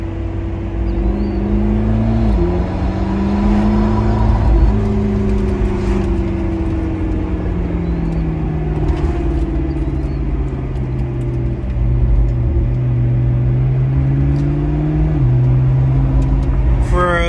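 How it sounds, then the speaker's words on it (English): A 2014 McLaren MP4-12C sports car engine drones and rises in pitch through several paddle-shifted gear changes, a deep exhaust note running steadily throughout with some voice underneath. "Exhaust is absolutely intoxicating"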